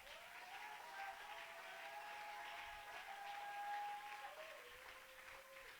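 A congregation applauding at a Christian worship service, with sustained steady clapping mixed with sung or shouted tones that hold and glide, loud and continuous throughout.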